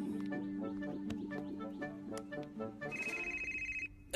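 A telephone rings in a Punjabi film scene, a pulsing electronic ring pattern over a low rhythmic background, ending with a sustained higher ringing tone before a sudden cut.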